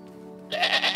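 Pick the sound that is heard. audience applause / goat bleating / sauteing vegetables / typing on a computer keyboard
goat bleating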